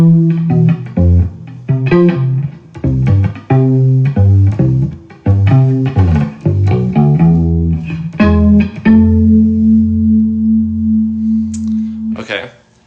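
Bass guitar plays the verse line of a song, a run of plucked notes in a steady rhythm that ends on one long sustained note followed by a brief high sound.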